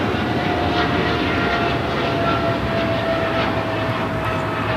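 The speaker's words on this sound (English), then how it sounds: "the Cargo King 222, taking off to Shanghai on the 777 freighter" A China Cargo Airlines Boeing 777 freighter departs LAX for Shanghai, its engines a loud, continuous roar with a faint steady whine riding on top, heard alone without talk.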